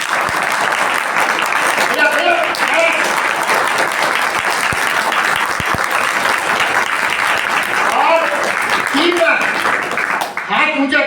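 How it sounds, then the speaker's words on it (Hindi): Loud, sustained clapping from an audience at an Arya Samaj religious discourse in Noida, many hands beating together steadily for about ten seconds before tapering off, with a few voices underneath. "जरा जोर से एक बार ताली बजाइए।"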